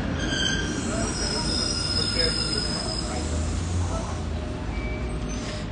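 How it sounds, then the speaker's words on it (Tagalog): A passing train fills the scene with a loud steady rumble and high metallic wheel squeal, heard from close by, continuous and alone without talk. "Ayun, train, guys."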